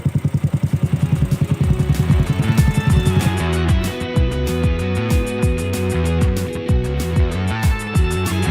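A Yamaha YBR 125 motorcycle engine runs close by, first with a rapid pulsing idle and then with irregular revving and popping exhaust bursts from its silencer.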